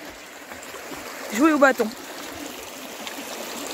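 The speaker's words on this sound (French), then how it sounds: "Bonjour la rivière." A cold river flows in February with a steady, soft rushing hiss that runs throughout, and a brief spoken voice rises over it midway.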